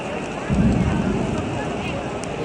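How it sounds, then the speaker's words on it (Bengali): Steady heavy rain at the Kaaba in Mecca with a dense broadband hiss, strengthening after a moment and continuing without a break. "কি পরিমাণ বৃষ্টি!"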